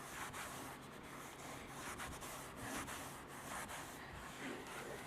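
Colourlock leather product rubbed into a carbon bucket seat of a 2022 BMW G80 M3, a continuous close rubbing and scrubbing swish with faint rhythmic strokes and no talking.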